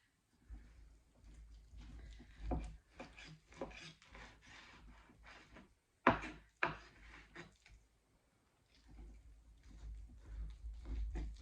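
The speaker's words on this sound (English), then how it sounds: "I'm going to go ahead and cut it into size pieces for sweet and sour pork" A knife saws through a pork loin end piece on a board, giving repeated rasping, scraping strokes in short bursts with pauses between cuts, close and fairly quiet.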